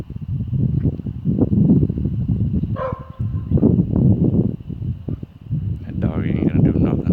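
A dog barks repeatedly in short bursts outdoors while wind buffets the microphone and someone talks over much of it, with a brief higher yelp or whine partway through.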